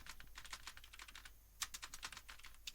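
Steady typing on a computer keyboard while writing a Python hello world program, with quick irregular clusters of close, crisp key clicks and a sharper keystroke partway through, no voices.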